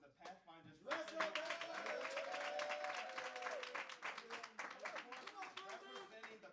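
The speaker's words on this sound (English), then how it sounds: "we want to give a big round of applause to the Pathfinders" An audience at a livestreamed apologetics event applauds the Pathfinders, a full burst of clapping that starts abruptly after a brief voice and holds steady, with cheers and voices layered over it.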